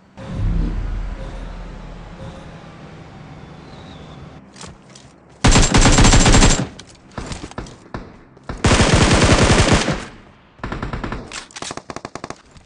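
Bursts of automatic gunfire from a mobile battle royale shooter, two long dense volleys and several shorter rattling strings separated by quieter gaps, loud and close with no talking.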